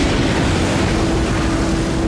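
A rough, continuous roar of stormy sea waves runs loud and unbroken, with a faint low tonal hum underneath and no voices.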